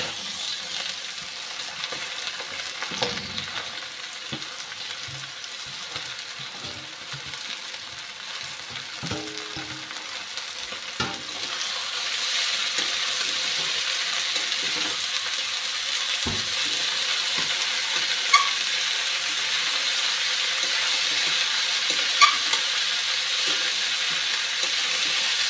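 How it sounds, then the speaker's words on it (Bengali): Rice is tipped into a hot frying pot for egg biryani and stirred. Scattered scrapes and clinks come first, then a louder, steady sizzle takes over with occasional utensil knocks, and no one speaks. "এখন চালটা দিয়ে দিচ্ছি।"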